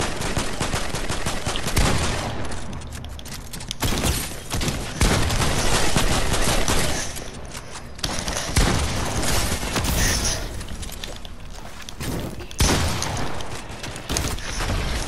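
Loud, near-continuous gunfire in the video game Fortnite, with rapid automatic bursts and heavy shots overlapping throughout and almost no pauses.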